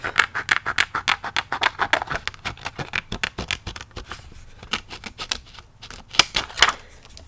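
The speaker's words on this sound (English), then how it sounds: "now I'm just going to take the tonic snips and we're going to just quickly trim this off" Tonic snips trim craft material for a Halloween vignette in a rapid, rhythmic series of crisp, close-up snipping clicks that continues almost without pause and grows sharper toward the end.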